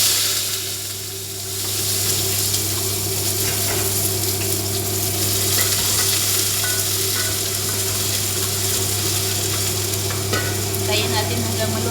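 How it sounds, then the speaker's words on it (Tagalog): Onions frying in hot cooking oil, a steady close sizzle with stirring scrapes running throughout, over a constant low hum. "Kasi mainit yung ating mantika. Ito na yung ating sibuyas."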